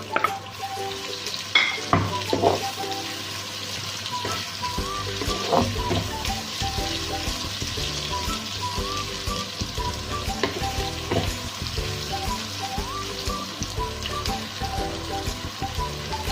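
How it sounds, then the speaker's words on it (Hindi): Three to four large chopped onions frying in oil in a kadai, with a loud continuous sizzle and frequent spatula scrapes and knocks against the pan throughout. "कढ़ाई में हम ऑयल डालेंगे। इसके मैं 3 से 4 बड़े वाले मेरे पास प्याज है, वो मैंने काटे हैं, इसमें ऐड करेंगे।"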